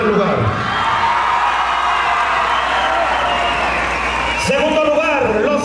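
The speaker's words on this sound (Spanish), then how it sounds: "fuerte el aplauso" An audience applauds and cheers during the prize announcements at a music group contest, with dense clapping and whoops that run steadily and loud, then a voice cuts in near the end.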